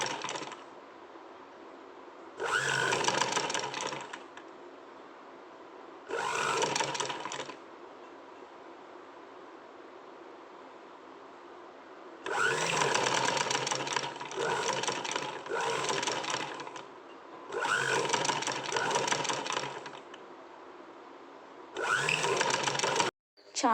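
A sewing machine stitches the sides of a blouse in several short bursts of steady whirring, separated by quieter pauses with low background hum.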